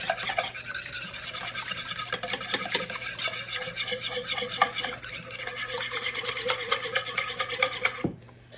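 Eggs and milk are whisked together in a bowl, a fast continuous rhythmic scraping and clinking of the whisk, close and steady for about eight seconds before it stops.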